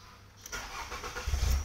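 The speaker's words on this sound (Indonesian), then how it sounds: "ya kita nyalakan mesin." A Nissan X-Trail engine cranks briefly, then catches and settles into a low rumbling idle, close by.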